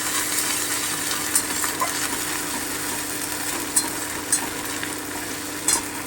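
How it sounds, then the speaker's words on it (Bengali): Ginger paste fries in a pan for a vegetarian raw banana curry, giving a steady close sizzle with a few light utensil taps while it is stirred. "আদা বাটাটা দিয়ে দিচ্ছি"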